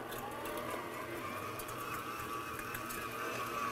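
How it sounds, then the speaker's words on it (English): An electric stand mixer whirs steadily while creaming butter for a cake batter, a low continuous motor hum with a faint rhythmic churn, heard close with no talking. "I have my butter in my mixer,"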